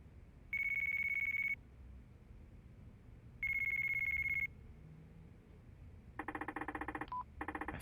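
A phone ringing in Yakuza 4 Remastered: two long electronic ring tones with a pause between, followed by a quick run of beeping dial-style tones, with a soft ambient game background throughout.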